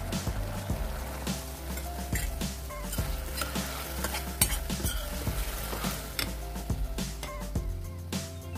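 Lady finger (okra) with mustard sauce simmering in a pan, a steady bubbling sizzle with frequent scraping stirs and utensil clinks against the pan, close and continuous throughout.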